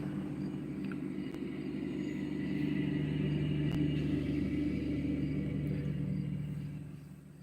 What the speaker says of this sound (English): so the one vehicle that's supposed to pass has just passed